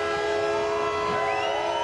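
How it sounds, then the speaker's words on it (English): Sustained car horns blare in overlapping tones along a street demonstration in Southern California, a loud continuous honking with no clear crowd cheering. "amidst the honking and cheering"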